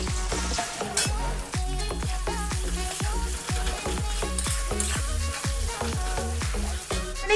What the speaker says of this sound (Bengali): জাস্ট পেঁয়াজটাকে একটু নরম করে ভেজে নেব